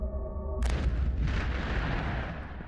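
A single deep explosion at a Marine live-fire combined-arms training range: a sudden heavy boom that rolls out into a long rumbling decay, loud and without voices.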